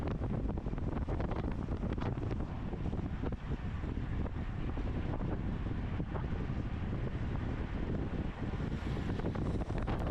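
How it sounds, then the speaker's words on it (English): Heavy wind buffeting a microphone while cycling into a stiff headwind on a rolling hills road loop, a loud continuous low roar that fills the whole stretch with no talk over it. "we are into a pretty stiff headwind"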